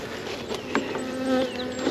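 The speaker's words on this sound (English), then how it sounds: "That's a lot of bees." Honey bees buzz around an open hive, a close, steady swarm drone with individual bees whining past.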